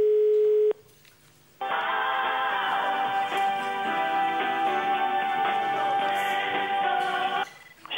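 A telephone ringback tone on a call to the Comdirect bank line gives a short steady beep, then a pause, then a long, loud, dense harmonic tone that sustains for several seconds before cutting off.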